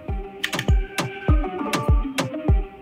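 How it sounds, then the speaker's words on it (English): Buttons on a DaVinci Resolve Speed Editor console clicked in quick pairs, crisp close plastic taps repeating several times in a loose rhythm with no talking. "I can create markers there with a double click of the marker button"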